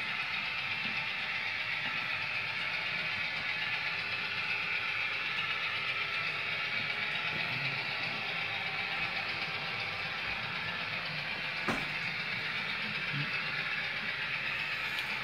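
A model train locomotive runs along a layout, giving a steady, faint mechanical whir and rattle with a single brief click partway through; no one speaks.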